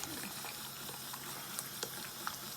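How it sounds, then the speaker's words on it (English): French onion soup comes back to the boil in a pot, a quiet bubbling and gentle popping with small occasional plops over a soft steady simmer. "Let's bring that back up to the boil."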